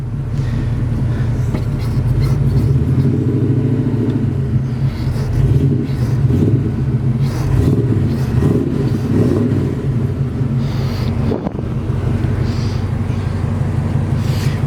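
1986 GMC High Sierra short bed step side pickup with its engine running: a loud, steady, low rumbling idle with a throbbing tone, close by and continuous, without anyone speaking.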